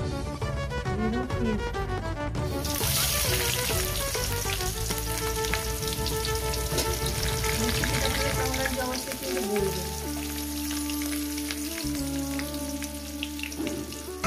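Onions fry in a pan for a mutton curry, a steady dense sizzle running the whole time, close and fairly loud, with a heavier crackling burst after the first couple of seconds and some faint stirring clatter.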